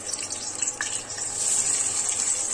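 Green chilies and onion hit hot oil in a pan for chow mein, giving a soft, steady sizzle that grows slightly fuller toward the end, quiet and close.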